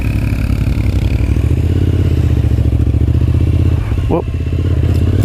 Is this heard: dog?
no